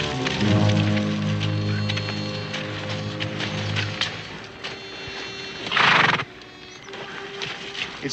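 Horses whinny loudly near the start over a steady outdoor rumble, with a second sharp neigh around the middle and quieter hoof and harness sounds in between.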